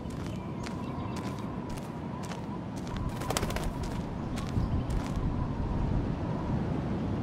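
Birds chirp and coo in an outdoor scene of the video game Life Is Strange, short bright chirps recurring every half second or so over a steady ambient rumble, with a soft low cooing beneath, no speech.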